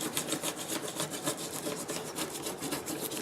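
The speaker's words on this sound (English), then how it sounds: "now what we're going to do is buff that vinyl right onto that wood background" Vinyl decal being buffed onto a wood sign background, a quiet rhythmic rubbing rasp of repeated strokes at close range, with no talking.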